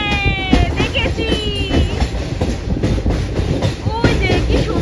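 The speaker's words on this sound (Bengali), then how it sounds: "আর এই যে টানেলটা ঢুকছে জাস্ট ট্রেনটা" A passenger train on the line toward Dudhsagar Falls runs into a tunnel, rolling loud and near. Its wheels clatter in a steady rhythm, and screeching metal tones rise over the rumble.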